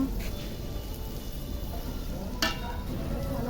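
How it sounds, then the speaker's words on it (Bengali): Onions frying in a pan for duck curry at a picnic: a steady, close hiss of sizzling oil with one brief scrape or stir partway through. "পেঁয়াজটাকে একটু ভালো করে ভেজে নিব"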